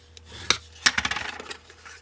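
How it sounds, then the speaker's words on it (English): Card stock is folded along its score lines while making a pallet card box, giving two sharp close creasing snaps followed by a quick run of soft crinkling rubs. "let's go ahead and fold our 2-inch, fold our score lines on"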